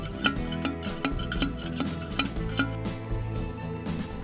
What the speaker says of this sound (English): Jeff gets to work by the fire with his trusty dolly pot to see if we're in luck